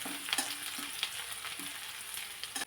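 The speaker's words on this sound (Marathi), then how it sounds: "थोडासा लालसर कलर होईपर्यंत कांदा चांगला परतून घेतलेला आहे" Thinly sliced onion sautés in a pan until reddish, giving a quiet continuous sizzle with several soft stirring scrapes and light clinks of a spoon on metal.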